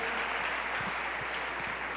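Church audience applauding, a dense, steady wash of clapping that fills the short stretch evenly at moderate level, with no voices rising above it.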